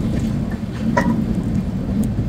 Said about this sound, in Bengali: আর বাইরে কিন্তু প্রচণ্ড বৃষ্টি হচ্ছে।